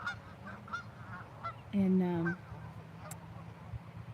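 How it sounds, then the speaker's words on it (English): A single loud goose honk cuts in briefly amid quiet outdoor background, with a faint voice saying a word just before. "geese are amazing"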